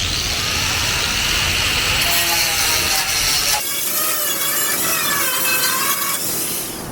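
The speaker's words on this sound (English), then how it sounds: "I'm just doing this so I can find the spot welds and drill them out" A loud drill grinds steadily into metal, drilling out spot welds on a rusty 1962 Chevrolet C10 pickup, its harsh rasping pitch shifting and squealing as it bites through.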